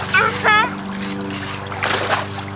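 A child splashes in cold hose water with a couple of quick splashes, while a voice chatters close by and a steady hum runs underneath.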